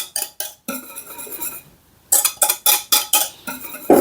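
Custard being stirred in a pan on the stovetop, with a spoon or whisk scraping and clinking against the metal in quick rhythmic bursts, close and fairly loud, with a short lull midway.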